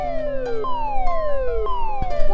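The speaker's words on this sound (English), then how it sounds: "There must be something wrong if you're wearing that siren hat." A toy siren hat gives off a loud, electronic wailing siren whose tone sweeps downward again and again in a steady, repeating cycle, close by and with no talking.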